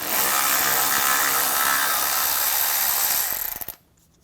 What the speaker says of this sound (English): Using a 10mm socket, take this nut out.